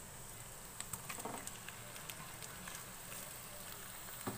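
Chicken mince frying with onion, garlic and ginger, a steady close sizzle and crackle with scattered pops, continuous throughout without talk.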